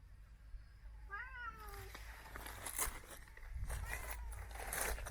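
A domestic cat meows a few times, fairly close, in a permaculture garden, followed by footsteps and rustling movement nearby.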